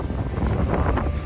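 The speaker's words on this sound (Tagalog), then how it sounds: "Malakas ang hangin, yan." Strong wind buffets the microphone on a ferry deck near Victoria, British Columbia, a steady dense roar with low rumble and no voices.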